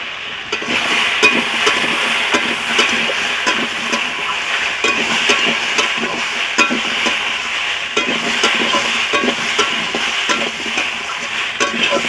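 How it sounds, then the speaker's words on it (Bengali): Fried soybean chunks go into a hot pan with chili powder and a little water, giving a steady, loud sizzle with frying hiss and occasional stirring scrapes throughout, no voices. "ভেজে রাখা সোয়াবিনগুলো এখন আমি দিয়ে দিচ্ছি"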